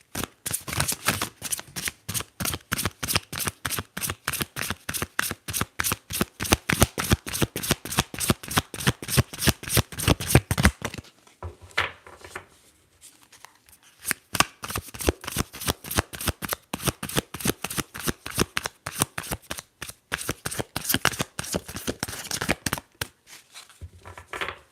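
Tarot cards shuffled in a steady, rapid riffling rhythm close to the mic, pausing briefly near the middle before the crisp flutter resumes for the rest.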